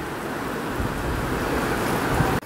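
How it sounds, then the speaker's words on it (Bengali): Heavy downpour of rain falling outside, a dense, steady roar of rainfall heard from indoors that continues evenly before cutting off abruptly near the end. "বাইরে একেবারে মানে মুষলধারে বৃষ্টি পড়ছে, সাদা হয়ে গেছে।"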